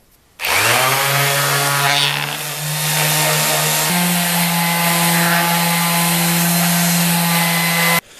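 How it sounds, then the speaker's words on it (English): Electric sheet sander running steadily on wooden geta sandal blocks, a loud continuous buzzing whine starting abruptly, shifting pitch slightly midway, then cutting off sharply after about eight seconds. "So we got the sheet sander."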